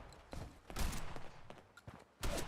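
Gunfire in the modded post-apocalyptic shooter Fallout 4, a few quiet, scattered shots popping at uneven intervals, faint and somewhat distant.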